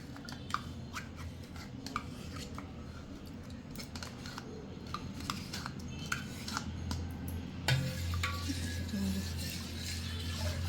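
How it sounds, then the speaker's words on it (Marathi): Curd being stirred into finger-warm milk in a pot brings a run of light spoon clinks and taps against the metal, close and fairly quiet over a soft background hum. "आणि दुधामध्ये असं छान असं मिक्स करून घ्यायचं आहे दहीला"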